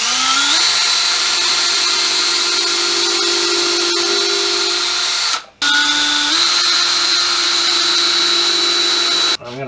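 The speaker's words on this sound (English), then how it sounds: "Now we're going to pilot hole for some long screws to put these boards together." Power drill boring pilot holes for long screws in wooden boards for a wheelbarrow garden planter, a loud close steady whine that rises in pitch, stops briefly, then spins up again for a second hole.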